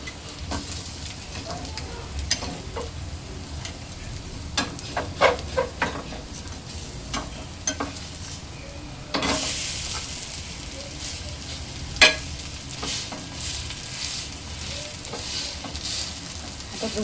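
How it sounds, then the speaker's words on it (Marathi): Kevla vadi, savory leaf-roll slices, shallow-frying in hot oil in a pan, a steady crackling sizzle with scattered sharp pops and spatters, louder and brighter from midway on, with no voices. "4 ते 5 मिनिटं मस्तपैकी खरपूस रंग येईपर्यंत तळून घ्यायचे आहेत।"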